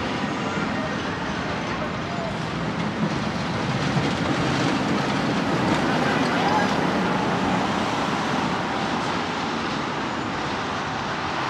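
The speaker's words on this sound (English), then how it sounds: "This is going to sound really windy," Strong wind blowing by the sea near a beachfront theme park, a loud, steady, broadband roar buffeting close throughout with no clear gaps.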